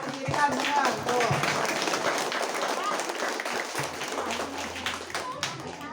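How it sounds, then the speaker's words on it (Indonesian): A class of elementary school children claps hands in a burst of applause in a schoolroom, dense, close and sustained for several seconds, with children's voices and an adult speaking throughout. "Ya, tepuk tangan, kirikan tangan."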